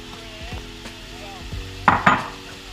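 Onions sweating in a pan for ox cheek lasagne: a low, steady sizzle with a few soft scrapes and two sharper clanks near the end from utensil against pan, close by, with no speech.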